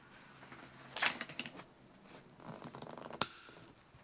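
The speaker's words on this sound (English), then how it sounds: "I am going to try my nippers here first and see if this will cut through this" Nippers cut through an expandable garden hose: a few small clicks and crunches, then one sharp, loud snap as the blades go through, close up and with no talking.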